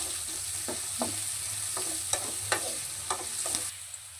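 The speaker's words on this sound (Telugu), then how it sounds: "ఇది బాగా ఇప్పుడు ఫ్రై అవ్వాలి" Onions fry in a pan for a mushroom curry with a steady, close sizzle. Several distinct spatula scrapes and taps cut through it over a few seconds, then the sound tapers off.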